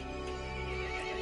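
A horse in the video game Resident Evil Village lets out a single brief, close whinny, a shrill wavering neigh lasting about a second with faint hoof clops beneath.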